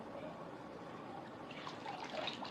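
Water poured and splashing softly during an immersive ablution (wudu), a faint close trickle and patter that grows a little busier toward the end.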